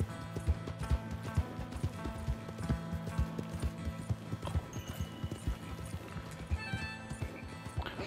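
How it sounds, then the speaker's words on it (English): Horse hooves clip-clop in a steady, even walking rhythm in the Red Dead Redemption 2 video game, moderately close, with faint background tones and a brief whinny-like sound. "we're gonna mount my horse"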